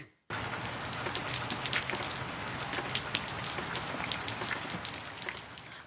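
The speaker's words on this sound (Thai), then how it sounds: "ฝนตกหนักมาก" Heavy rain pours down in a dense, loud, continuous roar of drops, starting abruptly after a brief moment of silence and holding steady to the end.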